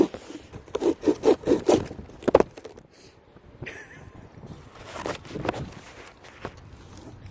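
A knife cutting open the top of a cardboard packaging box, a series of short rhythmic scraping strokes up close, followed by quieter rustling and handling of the box.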